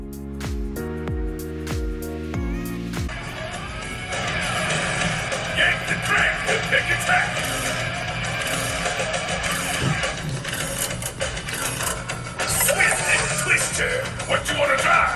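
Game audio plays through the stock speakers of an Arcade1Up Star Wars arcade cabinet: a few punchy musical hits, then loud, continuous, busy music and effects with spoken game voice lines over the top.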